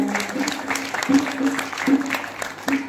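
A crowd at a Ramlila committee event in a hill village claps to welcome an honoured guest, uneven bursts of clapping close by with a steady drone and voices underneath.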